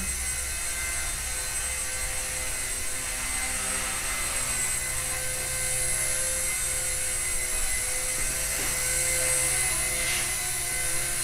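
Continuous high-pitched whine of a Blade mCPX micro RC helicopter's motor and rotor, flying indoors, steady and fairly loud, swelling slightly near the end with no voices.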